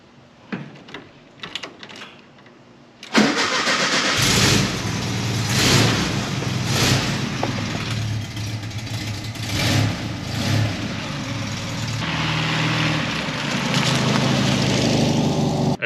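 A car left undriven for months, with a weak battery at 11.5 volts, cranks and catches, then runs loud and close with a rough, steady engine drone and some revving.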